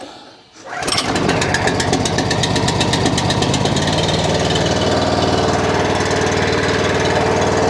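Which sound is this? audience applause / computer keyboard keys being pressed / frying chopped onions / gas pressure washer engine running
gas pressure washer engine running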